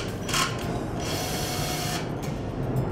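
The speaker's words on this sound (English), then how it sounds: "simply by turning the screws like so" Screws are turned to raise the ring of an adjustable raised device cover for an electrical box, giving a soft close mechanical whirring and ratcheting with brief brighter bursts, no voices.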